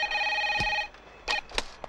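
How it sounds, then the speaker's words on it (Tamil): Telephone ringing indoors in an office setting: a loud electronic ring tone followed by shorter bursts, with a few knocks and brief sounds between the rings. "ஃபோன்."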